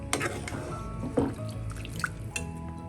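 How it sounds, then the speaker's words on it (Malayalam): About a glass of water poured into a pan of chicken mulakittathu, a Kerala chicken curry, making a few splashy drips and trickles against a steady background hum with faint tonal lines. "ചിക്കൻ വേവാൻ ആവശ്യമുള്ള വെള്ളം ഒഴിക്കാം. ഏകദേശം 1 ഗ്ലാസ് വെള്ളം."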